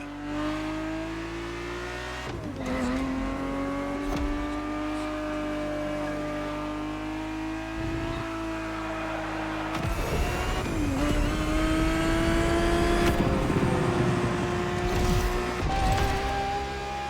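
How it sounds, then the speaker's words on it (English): A Ferrari 365 GTB4 races in the video game The Crew Motorfest, its engine droning steadily and rising in pitch through gear changes, with brief dips between shifts and a continuous loud roar throughout. "The Ferrari 365 GTB4 is the perfect vehicle for you to experience Ferrari racing as it felt back in the 70s"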